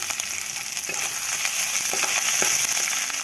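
Grated garlic hits hot oil in a pan for a Bengali fried dish of methi greens with potato and eggplant, giving a loud, steady, close sizzle and crackle with faint stirring scrapes and no voices.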